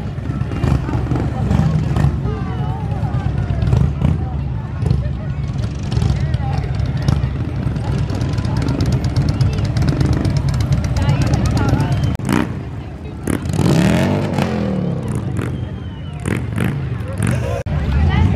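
Motorcycles rolling by in a small-town St. Patrick's Day parade in Portsmouth, Ohio, their engines a steady, fairly loud rumble beneath constant crowd chatter and nearby talk, with a louder pass late on.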